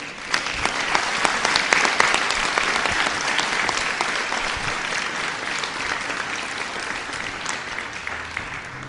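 A church congregation gives sustained, dense welcoming applause, a loud, even clatter of many hands that starts strong and holds steady with no speech over it.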